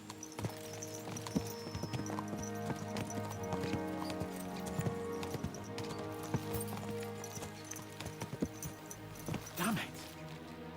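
Horses gallop in Kingdom Come: Deliverance II, with a rhythmic clatter of hooves under a steady tonal music or ambience bed and a few louder thuds near the end.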